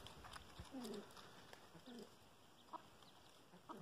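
Free-range chicks peeping around a rural building site, a few faint high chirps in quick short bursts, distant and quiet against light background noise.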